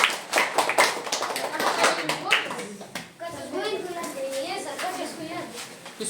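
Schoolchildren in a classroom clapping for a student who answered correctly, a quick burst of close, sharp claps lasting about three seconds, followed by children's chatter and a speaking voice.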